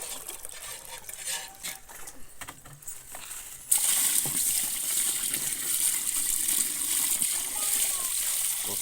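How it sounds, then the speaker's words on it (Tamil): Water is poured into a large cooking pot of rice for a big batch of biryani, starting with scattered clinks and handling noises, then turning into a sudden, loud, steady gushing splash that continues without a break. "நம்ம தண்ணியே ஊற்ற போகிறோம்."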